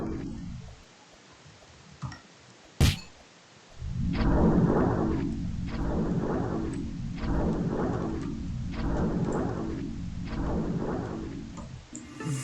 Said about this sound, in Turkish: Nahadogi'ye yıldırım çarptı.